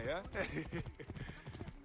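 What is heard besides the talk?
horse hooves clip-clopping in the video game Assassin's Creed Origins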